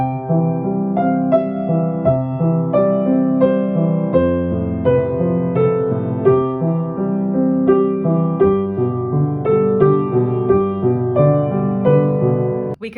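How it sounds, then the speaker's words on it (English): Piano playing a steady, flowing arpeggio, each broken chord rising and falling in an even, rocking rhythm in three, with clear repeated notes at a moderate volume and no talking. "This is called an arpeggio,"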